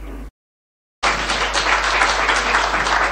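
An audience at a national COVID-19 communication campaign launch claps loudly and steadily; after a moment of silence, the dense applause resumes at full strength and continues without pause.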